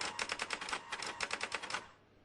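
A typewriter is tapped in a quick, uneven run of about twenty clacking keystrokes, close and fairly loud, before the typing stops and fades out.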